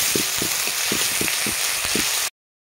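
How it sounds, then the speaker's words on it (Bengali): Sliced onion frying in hot oil in a wok for sago khichuri, a steady loud sizzle with evenly spaced soft thumps from stirring, cutting off abruptly near the end. "পেঁয়াজটা ভেজে নেব।"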